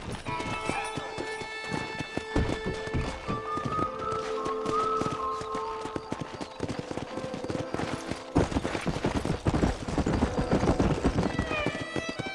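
Hooves pound in a fast, dense clatter as a pack of wild horses gallops close by in Red Dead Redemption, with tonal music and sharp bursts mixed in, and brief talk.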